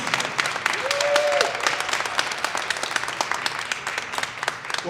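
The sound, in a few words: audience applause for the senator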